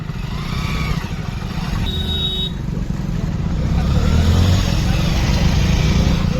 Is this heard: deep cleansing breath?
no